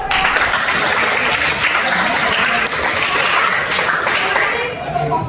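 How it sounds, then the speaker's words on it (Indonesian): A class of students clapping their hands in applause, a dense steady patter that stays loud and continuous throughout with no gaps. "tepuk tangan."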